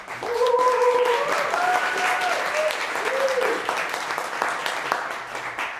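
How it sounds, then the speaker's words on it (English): An audience applauds at a live talk event, a sustained wash of clapping from start to finish with voices calling out over it. "One more round of applause for this guy."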